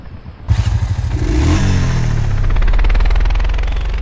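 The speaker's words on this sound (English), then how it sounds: "Four-wheeler, get in as driver." Four-wheeler engine in a video game starting up and revving, rising from a rough idle into a loud, sustained drone with steady harmonic tones, close and alone.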